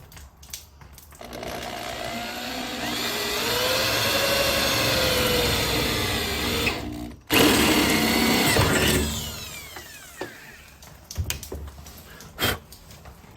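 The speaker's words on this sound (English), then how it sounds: "I'll show you once I've drilled this hole" A power drill bores a hole through sheet metal, a loud, steady whining drone with rising pitch that runs several seconds, breaks off briefly, then continues before trailing into scattered clicks and knocks.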